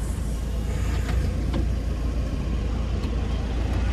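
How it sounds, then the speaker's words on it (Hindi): Road traffic hums steadily on a hot day, a continuous low engine and tyre rumble from passing cars and heavier vehicles with faint higher swishes, no talking. "क्या ट्रैफिक है"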